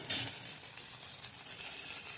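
Onion, tomato, ginger, garlic and chili frying in hot oil, opening with a brief loud burst of sizzle that settles into a softer, steady crackle with faint stirring, no speech.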